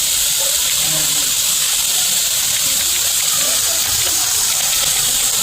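Boondi batter fries in plenty of hot oil for syrup-soaked boondi, giving a dense, continuous bubbling hiss that stays close and steady throughout.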